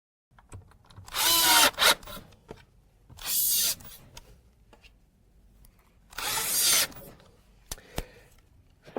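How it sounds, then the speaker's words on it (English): A power drill drives 16 mm screws to fix a GRASS Dynaneo drawer slide inside a cabinet: three loud whirring bursts, each about half a second to a second long, with soft clicks and handling knocks between them and no talking. "First, clean the cabinet and then screw on the slide."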